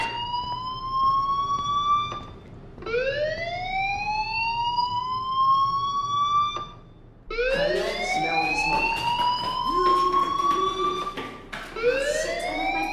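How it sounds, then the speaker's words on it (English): A school fire alarm in the game Life is Strange wails in rising electronic sweeps, loud and continuous, with brief gaps before the sweeping tones return and overlap. "do you hear that fire alarm?"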